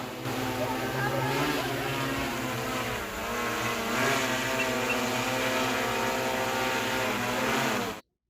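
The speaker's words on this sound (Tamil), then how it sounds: "சென்னை உர நிறுவனம் சார்பில் ட்ரோன் மூலம் விவசாய பயிர்களுக்கு மருந்து தெளிக்கும் நவீன தொழில்நுட்பம் குறித்த செயல் விளக்கமும் செய்து காண்பிக்கப்பட்டது" An agricultural drone spraying pesticide over crops in a village field gives off a steady, loud propeller whine that hums continuously for about eight seconds, then cuts off abruptly.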